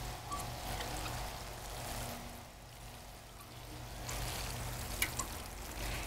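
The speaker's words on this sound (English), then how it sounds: "Water that in well." Water poured from a can or hose onto fertilized petunias gives a faint, steady trickle and splash over low background noise, with no talking.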